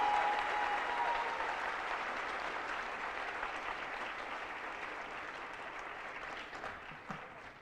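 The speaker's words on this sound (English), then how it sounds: "Let's give them one more round of applause" An audience at a senior awards night applauds, the broad, even clapping starting strong and slowly thinning out over several seconds with a few isolated claps near the end.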